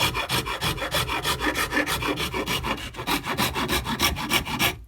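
Coarse side of a Shinto rasp filing purpleheart wood for a cigar box guitar, a close rhythmic scraping of quick back-and-forth strokes with no talking.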